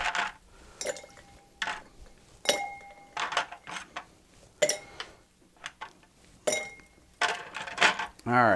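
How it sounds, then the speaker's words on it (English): Ice cubes dropped into a mixing glass for an inverted Manhattan, giving several bright clinking bursts spread over a few seconds, close and fairly loud against a quiet room. "So now we're going to add our ice."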